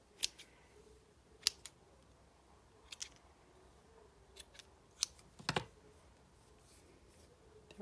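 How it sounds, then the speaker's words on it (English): Small scissors snip the ends of linen thread tied in a bow for a handmade card, giving several sharp, quiet clicks spaced irregularly, with a couple of closely spaced cuts near the end. "Trim off the ends."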